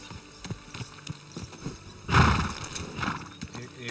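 A horse in the video game Kingdom Come snorts and whinnies once, with faint hoof clops before and after.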